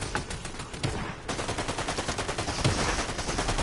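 Rapid gunfire in a PS4 shooter game, bursts of automatic shots crackling in quick succession, steady and moderately loud with no talk over it.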